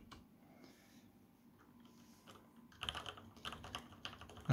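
Typing on a mechanical keyboard fitted with Cherry MX switches, faint and sparse at first, then a denser run of loud clacking keystrokes in the second half.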